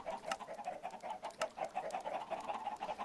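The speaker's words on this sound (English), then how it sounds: "Lots of chickens. So many chickens." Chickens cluck in a video game, a quiet, rapid series of short repeated clucks and chirps from a flock, steady and unbroken with no talking.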